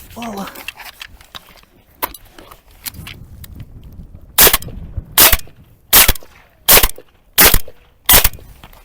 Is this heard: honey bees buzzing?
no